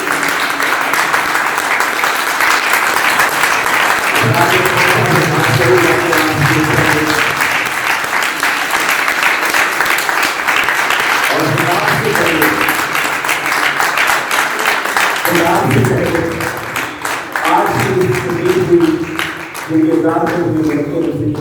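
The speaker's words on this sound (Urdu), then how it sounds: "بہت ساری تالیاں" Sustained audience applause fills a stage welcome ceremony, steady and dense throughout, with an announcer's voice breaking through over the clapping at several points.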